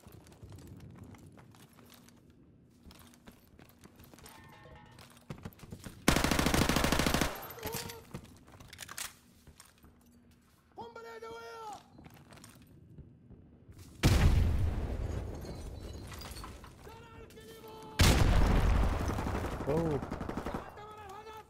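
Gunfire in a video game, with loud bursts of rapid automatic shots around the seven, fourteen and eighteen second marks over quieter game ambience, with some clicks and tonal effects between them.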